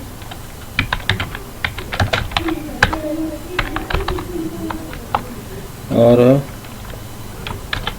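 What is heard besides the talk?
computer keyboard typing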